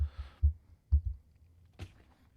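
Thuds of a fist on a table and taps on a 512 Audio Skylight condenser microphone come through as a few soft low knocks, spaced out and fairly close, followed by one sharper tap near the end.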